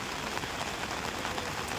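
Heavy rain pours steadily outdoors, a dense, even wash of noise with no gaps and no voices heard.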